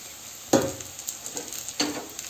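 Mawa with dry fruits and grated coconut roasts in a pan while being stirred. A faint sizzle runs under a few short, sharp scrapes of the spoon against the pan.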